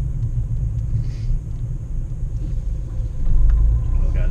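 A car creeps slowly through an overspill car park, its engine a steady low rumble close by that swells louder toward the end.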